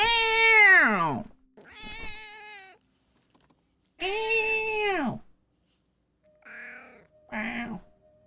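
A male cat meows several times with long, drawn-out, grumbling calls, close and fairly loud, separated by short silences; no speech over it.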